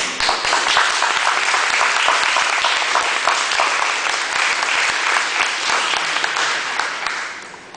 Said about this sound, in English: if we can applaud for that, then we can applaud for you.